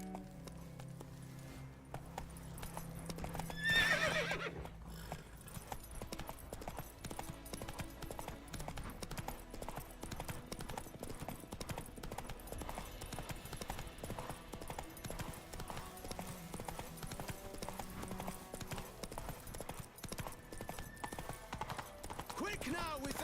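A horse gallops in The Witcher 3, a steady rhythmic clip-clop of hooves running throughout, with a brief whinny early on and game music and ambience underneath.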